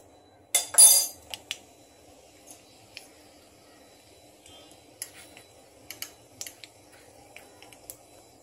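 Mustard seeds popping in a pan of hot oil: a burst of sizzle followed by scattered sharp ticks and crackles at irregular intervals, close and fairly quiet, with no talking.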